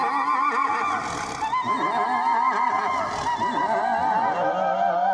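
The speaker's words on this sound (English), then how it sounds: "You got a horse sound here." A synthesized horse whinny from the Zodiac VST plugin rings out loud and close, a wavering neigh repeated over a steady tonal backdrop with no talking.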